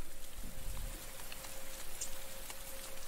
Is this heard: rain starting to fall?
yes